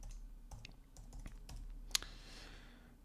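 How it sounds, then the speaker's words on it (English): Quiet, sparse keystrokes on a computer keyboard while text is entered on a Calculeaf worksheet. A few scattered clicks are followed by one sharper tap. "and then I can start typing."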